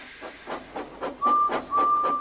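A steam engine puffs in a steady rhythm of about eight chuffs, growing louder and closer, with a thin whistle-like tone sounding twice over the exhaust beats.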